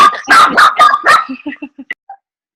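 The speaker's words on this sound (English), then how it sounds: "Hi, puppies." Puppies bark in a burst of loud, close yaps, several overlapping at first, then trailing off into smaller yips and whimpers before falling silent.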